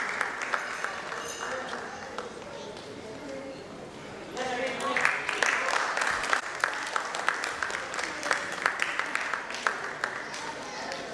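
An audience at a Kumon award ceremony claps for students' achievements; scattered applause and murmuring voices swell after a few seconds into louder, denser clapping with distinct sharp hand claps standing out.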